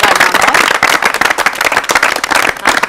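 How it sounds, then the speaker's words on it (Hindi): An audience at an Urdu literary quiz show claps for a prize winner, loud, close, crisp hand claps in a quick uneven burst, with no talk over them. "तालियां इनके।"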